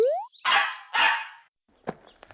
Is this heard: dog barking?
yes